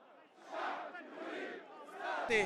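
A pro-Saied crowd of about 3,000 rallies in Tunis, voices shouting together in loud, surging chants that swell and fade, ending in a sharp burst.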